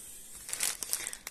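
Packaging of an Iro board game being opened, a short burst of crinkling and tearing plastic or paper that grows louder after a quiet start.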